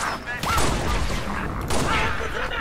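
Shotgun blasts from the video game Halo: Reach, played on Legendary difficulty: a few loud, sharp booming shots ring out close up within roughly three seconds, over steady game background noise.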